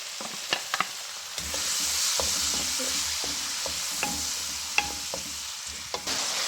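Mashed tomato goes into frying moth dal spices with turmeric, raising a steady sizzle under repeated spoon scrapes and clicks against the pan, close and fairly loud throughout.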